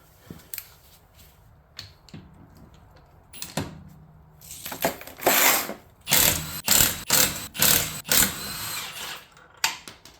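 A power tool removes a wheel from a BMW, firing in repeated short bursts of whirring and rattling, close and loud, between quieter clicks and handling noises.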